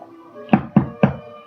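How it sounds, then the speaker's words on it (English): Three sharp knocks on a hard surface, evenly spaced and close, with no other sound around them. "Knock, knock."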